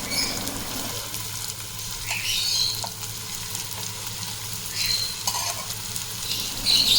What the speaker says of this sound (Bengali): ননস্টিকে হালকা করে এটাকে ফ্রাই করে নেব